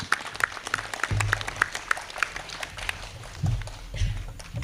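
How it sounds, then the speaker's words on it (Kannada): Residents clap steadily and rhythmically as a priest arrives at a Christmas music night at Snehalaya, Manjeshwar, with faint low background sounds under the clapping. "ಫಾದರ್ ಬರುವಾಗ ಇಲ್ಲಿಯ ನಿವಾಸಿಗಳು ಭಾರಿ ಖುಷಿಯಿಂದ ಕೈ ಚಪ್ಪಾಳೆ ತಟ್ತಾ ಇದ್ದಾರೆ"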